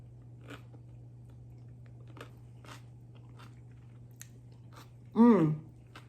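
Creamy cucumber salad eaten close up, sparse faint crisp bites and crunches over a low steady hum, ending in a short voiced sound of enjoyment.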